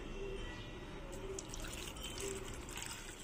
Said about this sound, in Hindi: और इसमें थोड़ा से पानी डालकर इसे 1 सीटी होने तक ले बॉईल करके लेते हैं।